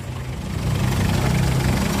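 A diesel engine in a 2004 Mitsubishi Kuda Grandia idles with a steady close rumble and rough mechanical clatter, growing slightly louder after the first half second.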